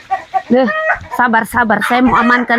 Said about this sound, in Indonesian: Oh haleluya, ini ayam ini dia.